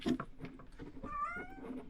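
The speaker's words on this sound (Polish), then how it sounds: "Widzicie jaki kot?" A cat in a hostel in Almaty gives a drawn-out, fairly quiet meow, close by, with a few faint rustles around it.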